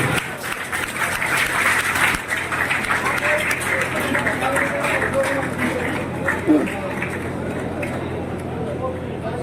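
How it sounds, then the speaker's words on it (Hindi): Sustained applause from an audience at a Hindu Bairagi community gathering, a steady dense patter of clapping with crowd murmur lasting throughout. "जोरदार तालियां रोशन जी के लिए।"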